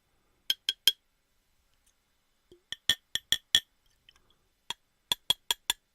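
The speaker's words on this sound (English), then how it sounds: "It comes in a glass bottle" A glass beer bottle, a Not Your Father's brew, clinks sharply in close, quiet bursts of two to five quick taps separated by silent pauses, with a few faint small knocks between.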